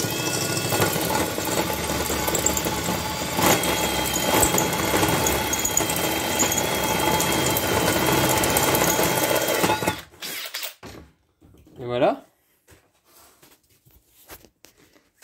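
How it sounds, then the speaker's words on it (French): A drill boring a hole through an aluminium bowl while building a punch fountain, a loud continuous whirring grind for about ten seconds that stops abruptly, followed by quieter handling clatter. "ce que je vais faire, c'est que je vais percer mon trou."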